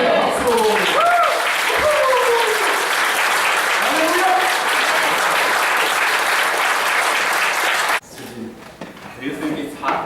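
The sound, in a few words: applause in church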